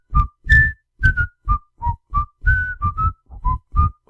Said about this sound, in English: he's going fishing and he's whistling the Andy Griffith Show